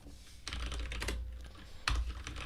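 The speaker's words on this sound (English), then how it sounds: "I'm way better at typing when I'm not streaming." Keys on a computer keyboard clatter in quick, uneven bursts close by, with a brief pause and then another flurry of taps, no voices.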